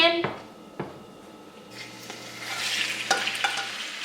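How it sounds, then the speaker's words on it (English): Chicken sizzles and hisses in hot oil in a pan, rising in intensity, with a few sharp clinks of a utensil against the pan. "Listen to that sizzle."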